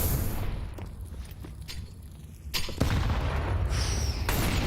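Scattered pistol shots from Glock handguns in a professional Counter-Strike match, with booming blasts and rumbling gunfire in bursts against a dense, noisy background.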